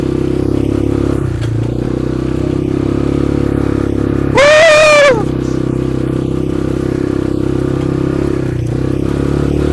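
An ATV engine drones steadily with a rumble throughout, with a brief rising, whining rev burst partway through before settling back to a constant hum, on a theme park ride.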